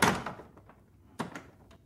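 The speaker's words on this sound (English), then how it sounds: "The door creaks as he nudges it open." A door in an old, quiet house is nudged open, giving a soft knock followed by a second brief wooden bump, close and fairly quiet with no talking.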